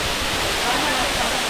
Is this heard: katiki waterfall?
yes